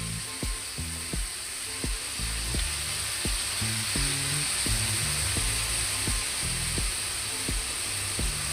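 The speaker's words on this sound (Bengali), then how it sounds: "আর করলা ভাজার সময় কিন্তু এরকমভাবে ছড়িয়ে ভাজতে হবে" Bitter gourd slices fry spread out in a pan with a steady, close sizzling hiss, broken by soft low knocks of stirring through the whole stretch.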